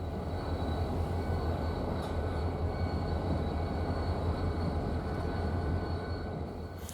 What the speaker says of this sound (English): An eastbound BNSF sand train flies by the duo, with much newer GE Evolution locomotives, still in their prime.